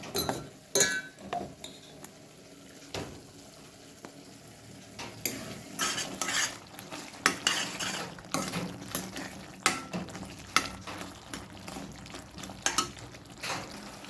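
Masala frying in oil for a Kannada taro stem gojju, stirred with a utensil: irregular clinks and scrapes of a spoon against the pan over a steady low sizzle, close and fairly loud, with no talking.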